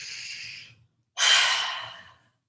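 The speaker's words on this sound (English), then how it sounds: "Breathe it in and breathe it out." A slow, deep breath in and a longer breath out during a guided emotional-release meditation, two soft airy breaths separated by a brief pause, close and alone.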